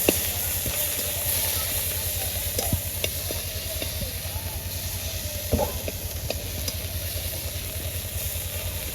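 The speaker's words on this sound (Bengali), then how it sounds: "ফুটকিগুলো যেন পুড়ে না যায় তার জন্য আমি অল্প একটু তেল দিয়ে দিব ফুটকিগুলো খুব সুন্দর করে বেজে নিব" Broken rice grains (khud) frying in a little oil, a steady close sizzle and hiss with scattered soft stirring ticks throughout.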